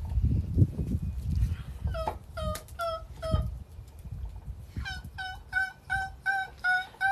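Outdoors, a series of sharp, rapid calls in repeated bursts, some near and some farther off, mixed with rustling and handling noise; the calls fit wild turkey gobbling.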